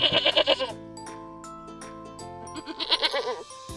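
A goat bleats in a series of wavering, nasal cries, close and clear, with a pause between bursts and more bleats near the end; no talking.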